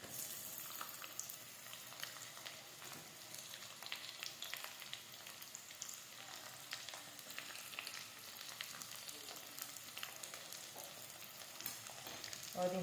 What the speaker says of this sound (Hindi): अब यहाँ पे हम प्याज भी डाल देते हैं।